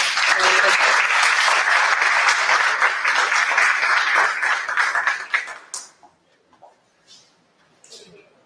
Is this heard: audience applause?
yes